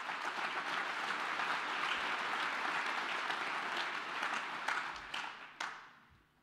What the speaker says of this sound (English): let's give another round of applause for them as well